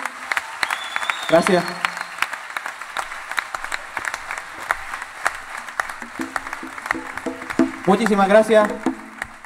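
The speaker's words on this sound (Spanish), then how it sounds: "Un grandísimo aplauso." A theatre audience at the Guiniguada theatre applauds a band presenting its new work, clapping steadily throughout and swelling near the end, while someone speaks over it.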